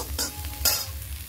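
Onion and bitter gourd sizzle in a frying pan while a utensil stirs them, two quick scraping strokes over a steady soft crackle, close and alone.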